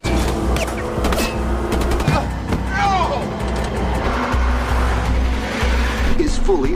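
In a film car chase, Fury flees from the police as engines roar, tires squeal and sharp gunshot cracks ring out over a dense, loud bed of traffic noise, with voices shouting through the scene.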